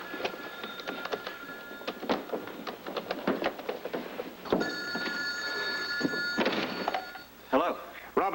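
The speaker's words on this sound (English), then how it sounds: "not until I heard the phone ringing" A telephone bell rings in two long electronic trill bursts, each lasting over a second, with a short gap between them. Tapping and clunking noises from people moving sit underneath, and the ringing is clear and prominent throughout.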